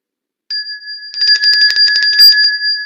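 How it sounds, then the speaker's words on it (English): A quiz-answer bell on a live weather show gives a steady, bright ringing tone that holds for about two seconds, with a rapid metallic rattle running through the middle of it. "So ring the bell for those two."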